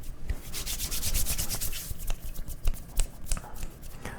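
Fingers rubbing directly on a microphone produce close, scratchy, sanding-like friction with irregular bursts and soft taps, with no talking.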